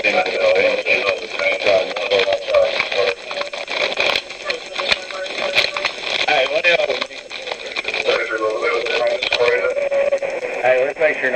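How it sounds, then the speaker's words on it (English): Police radio static and racket crackle continuously on the troopers' end during an arrest at a store, a dense harsh hiss with bursts of garbled transmission throughout, under and between voices. "All this static and this racket you're going to hear is going to be on their end."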